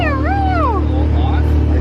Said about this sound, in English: What? You're finally awake now,